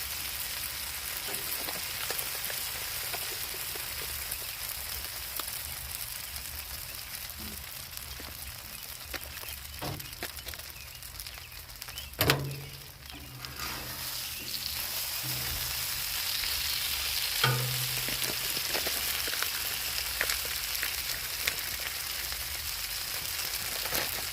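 Ham fries on a Blackstone griddle with a steady, close, hissing sizzle throughout, broken by a couple of brief clunks of a utensil on the flat top.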